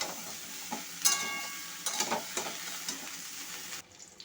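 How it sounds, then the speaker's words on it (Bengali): Cauliflower fries in white oil with salt and turmeric, giving a close, crackling sizzle broken by several sharp stirring clatters before it drops away at the end. "আমি ফুলকপিটা ভেজে নিচ্ছি"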